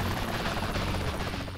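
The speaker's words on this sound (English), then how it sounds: "Get in the chopper." A helicopter in Saints Row 3 Remastered on PS4 gives a steady, loud, close rotor-and-engine roar that holds evenly throughout with no talk over it.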